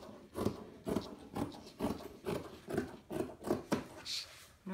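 Scissors cutting out a fabric pintuck panel, a rhythmic series of about nine crisp snips and crunches, close and fairly loud, evenly spaced at roughly half-second intervals with no talking.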